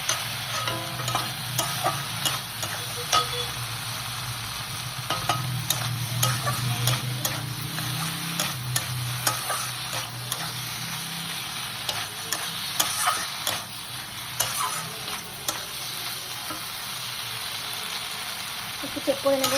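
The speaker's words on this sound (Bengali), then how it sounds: "পোস্ত আর কাঁচা লঙ্কা ভালো করে নামিয়ে নিতে হবে। নাড়াবে, নাহলে নিচে লেগে যাওয়ার চান্স আছে।" Poppy seed paste and green chilli being stirred in a frying pan, a steady close scraping and stirring over a soft continuous sizzle throughout, with no talking.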